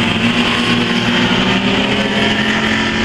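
Race cars roar around a dirt track in loud, continuous engine drone with steady revving, close and dominant with no voices over it.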